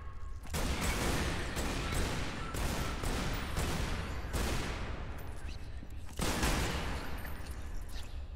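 Assault rifle fire from Tomb Raider Underworld blasts at spiders in loud, dense, sustained bursts with only brief pauses between volleys, close and continuous throughout.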